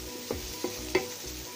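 Tamarind roasting in a pan for red sorrel leaf pickle, with a low steady sizzle and three soft stirring scrapes spaced about a third of a second apart, no voices.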